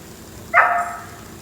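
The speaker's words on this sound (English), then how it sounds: "The neighbor's dogs like to bark a little bit." A neighbor's dog gives a single short bark at a distance, clear above a quiet room hum with no talking.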